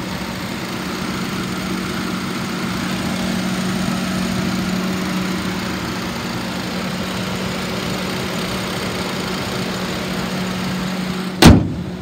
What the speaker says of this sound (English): Motor sounds good. It's been running for about an hour.